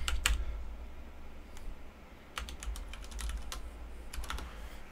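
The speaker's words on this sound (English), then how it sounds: "Oh, I gotta actually type in his name." A name is typed on a computer keyboard in quick, irregular bursts of soft clicking keys, fairly close but quiet, with a short pause between the bursts.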